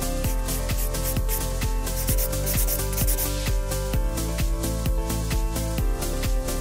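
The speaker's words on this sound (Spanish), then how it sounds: "Utilizaremos nuestra lima Speedy Zebra 100-100 y voy a empezar a limar lateral por la superficie." Rhythmic rasping strokes of a Speedy Zebra 100/100 nail file rubbing along the side edge of a metal nail-art stamping stencil, close and steady, repeated quick scrapes with no talking.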